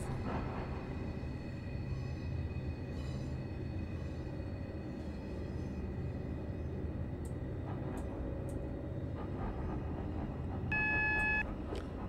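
A Class 444 electric train pulls into Bournemouth in a railway simulation, a steady low rolling hum of motors and wheels with faint clicks, ending in a short cluster of electronic beeping tones.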